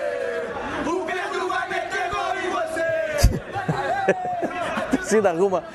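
Football fans at an airport arrival for striker Pedro, a crowd singing a chant with shouts and loud voices overlapping, some laughter and chatter mixed in, rising toward the end.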